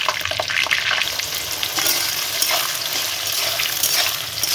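Whole cloves, cardamom and bay leaves sizzle and crackle in hot oil for mutton biryani, a continuous bright frying hiss with small pops and stirring, no one speaking.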